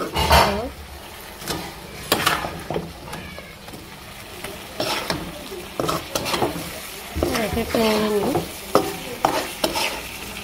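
Tilapia pieces are stirred and fried in oil in a pan for a spicy bhuna curry, with scraping strokes and sizzling, and a voice talking in bursts over the cooking.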